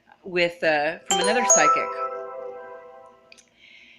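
A computer notification chime sounds as video uploads finish. It comes as a brief bright ding near the end, after a person's speech trails off, and is faint and alone.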